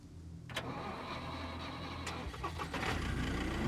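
A car engine in the survival game SCUM cranks and catches, then settles into a steady idle rumble that grows slightly louder near the end, heard clearly without any talk.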